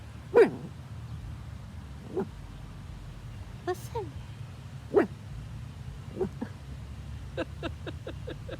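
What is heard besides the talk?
dog barking at other dogs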